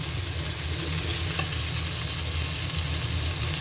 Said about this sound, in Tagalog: ilalagay ko na po ang sitaw